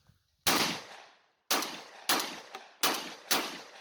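Mossberg 930 Tactical shotgun bolt release, five sharp metallic clacks at uneven intervals with a faint tick between two of them, each decaying quickly, close and alone.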